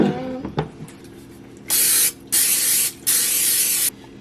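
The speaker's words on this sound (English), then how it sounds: "I'm just going to take an 8-inch glass baking dish and spray it with" Three bursts of cooking spray hiss into an 8-inch glass baking dish, each lasting about half a second to a second, loud and close, following a brief clink of glass.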